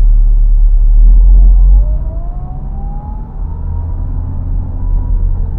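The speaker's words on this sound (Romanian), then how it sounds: "Deci suntem în R acum, mergem un pic cu spatele." A Dacia Logan MCV with the 1.5 dCi diesel engine and Easy-R automated gearbox reverses slowly, its loud, low engine rumble dropping in level after a moment, with a faint whine rising in pitch over it.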